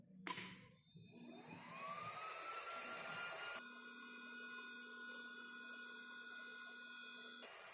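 An electric motor driven by a Siemens Sinamics G120 frequency drive starts up, its whine rising in pitch as it ramps to about 300 rpm, then settling into a steady high tone with a faint electronic whistle.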